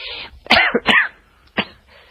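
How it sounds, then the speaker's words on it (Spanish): Two quick, harsh coughs close together, then a pause and one more short cough, loud and close with quiet in between. "se notó perfectamente que tosiste"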